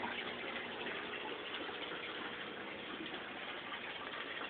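Water flowing and gushing through a greenhouse aquaponic dutch bucket system, a steady continuous splash without pause.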